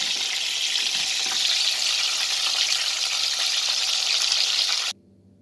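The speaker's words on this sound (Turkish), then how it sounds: "Evet tavuklarımız nar gibi kızardı gördüğünüz gibi." Chicken pieces fry in hot oil with a steady, dense sizzle that carries on loudly and evenly before cutting off abruptly near the end.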